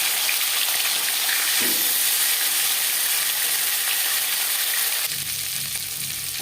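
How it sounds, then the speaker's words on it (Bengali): A fish head fries in hot mustard oil in a pan, giving a loud, continuous hissing sizzle that eases slightly near the end, with no talking. "তিন চামচ সর্ষের তেল গরম করে নেওয়ার পর দিয়ে দিলাম ময়নের করে রাখা মাছের মাথা"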